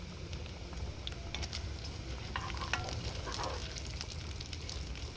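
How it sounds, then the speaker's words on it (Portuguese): Bacon frying hard in a pan at a campsite, a steady close sizzle with scattered crackles and pops throughout, no voices. "Aqui eu vou deixar o bacon bem fritinho, fritar ele bastante mesmo."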